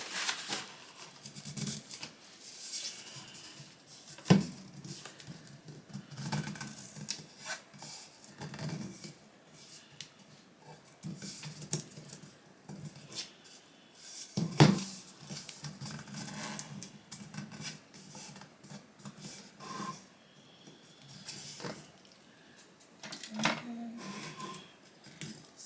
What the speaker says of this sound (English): So what I do is I get a piece of tape and I go across